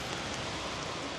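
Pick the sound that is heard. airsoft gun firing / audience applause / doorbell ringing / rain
rain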